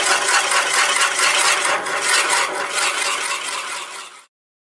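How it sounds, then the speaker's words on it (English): A drill bores into a hard juniper wood bowl blank on a lathe spinning at about 300 RPM, giving a steady, loud grinding and rattling buzz throughout that cuts off abruptly at the end. "Decided to go ahead and drill it. See how hard the wood is. Start out about 300"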